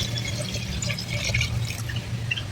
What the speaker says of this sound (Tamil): தேவையான தண்ணி ஊற்றிக்கலாம் வேவுறதுக்கு.